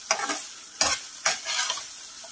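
Mutton kosha being stirred and fried in a pan gives three sharp scraping strokes spaced under a second apart, each followed by a bright sizzle that lingers between strokes, close and with no talk.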